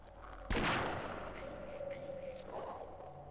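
Gunfire in the first-person shooter Half-Life: one loud, sharp blast close up, then a sustained rumbling echo and a steady game tone that linger to the end, with no talk.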